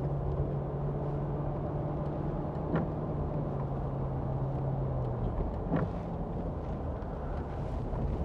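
Steady engine and road rumble from a 2003 Land Rover Discovery 4.0 V8 ES automatic driving along a country road, heard from inside the cabin with a constant drone and a couple of faint bumps.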